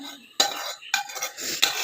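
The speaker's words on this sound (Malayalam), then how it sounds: "നമ്മുടെ വഴറ്റി വെച്ച ഇതൊക്കെ നമ്മൾ കപ്പയിലോട്ട് യോജിപ്പിക്കുകയാണ്" Sautéed mixture being stirred into cooked tapioca in a pot, heard as close, sharp spoon-on-metal clinks and scrapes in a few separate bursts with quieter shuffling between, no talking.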